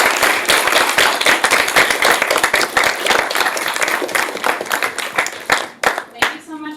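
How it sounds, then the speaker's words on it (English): An audience at a public interest panel event on abortion access claps in a dense, sustained round of applause that thins out toward the end, with a voice briefly speaking as it fades. "Could everyone please just give a round of applause?"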